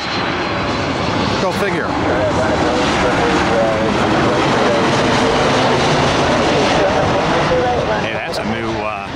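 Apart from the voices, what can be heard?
Southwest Airlines jet airliner at Boston airport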